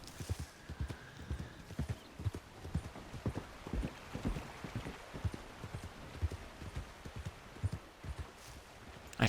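Steady clip-clop of a horse's hooves as it is ridden through the town of Strawberry in Red Dead Online, an even trotting rhythm, fairly close, with a brief whinny near the start.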